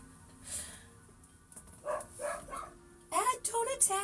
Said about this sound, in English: Let me close this window so the dogs aren't quite as loud.